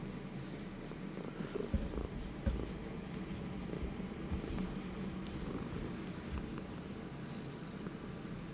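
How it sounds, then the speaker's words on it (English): A cat purrs steadily and close up for the whole stretch, a low continuous rumble with faint background noise and no talking. "You can hear the cat purring?"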